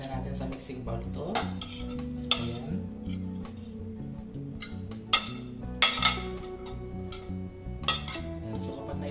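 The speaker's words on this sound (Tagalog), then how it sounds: "magmi-mix na tayo guys sa mga ingredients na ating gagawing ukoy na carrots" Grated carrot fritter batter for ukoy is stirred in a mixing bowl, giving soft, close scraping and clinking of a utensil against the bowl with a few sharper taps.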